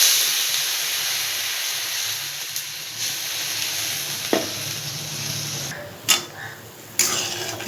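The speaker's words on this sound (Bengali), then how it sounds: "ঝোলটা আমার ফুটে উঠেছে।" Fish roe curry cooking in a pan after water is added, a steady loud hiss of bubbling and steam with a few sharp clinks and stirring scrapes toward the end.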